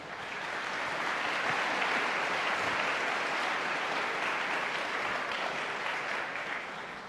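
An audience at a 2022 academic freedom panel applauds in a sustained, even wash of clapping that swells quickly and holds for several seconds before tapering slightly.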